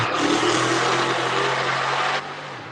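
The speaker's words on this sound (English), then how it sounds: "I had a loud car going through the neighborhood." A loud car roars past through a residential neighborhood with a strong, sustained engine drone that holds steady, then cuts off sharply near the end.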